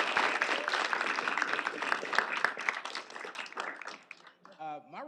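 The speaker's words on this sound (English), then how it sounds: "Let's give another round of applause for our PTK induction." Audience applause at a PTK induction ceremony, dense clapping from a crowd that thins and fades out, giving way to a voice speaking at the end.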